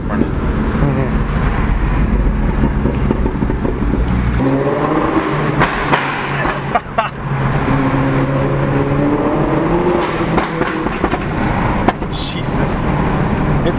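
A Mini Cooper F56 on coilovers revs hard, with a loud engine drone that gives way to sharp exhaust pops and crackles, as people talk over it.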